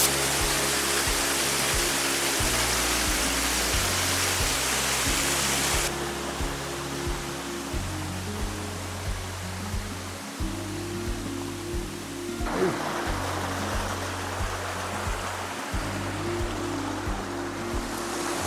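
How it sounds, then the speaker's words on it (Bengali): Shilbunia waterfall near Maita Toim hill in Alikadam, a steady broad roar of falling water heard close and continuous, with a low rhythmic mechanical thumping underneath. "অবশেষে আমি চলে এসেছি সেই শিলবুনিয়া ঝর্ণার সামনে।"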